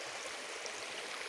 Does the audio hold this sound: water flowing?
yes